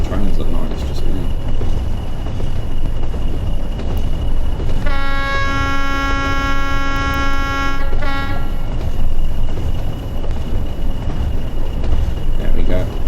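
A loud train horn blasts for about three seconds over the steady rumble of a passing train, with talking in the background, in the game Train Sim World 5.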